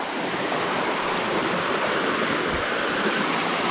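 Water pours over solid rock at Fikong Falls, a loud, unbroken rushing roar heard up close, with a steady hiss of spray and no voices.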